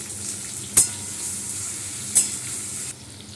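Potatoes frying and being stirred in hot oil spiced with cumin, tomato and bay leaf: a steady close sizzle with two sharp scraping stirs, and no one speaking.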